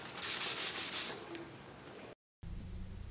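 Hand sanding of glazing putty over small dents on the gas tank of an Allis Chalmers 310 tractor: close, rapid rhythmic rubbing strokes that fade to a steady softer scrape, then a brief cut and quieter background hum.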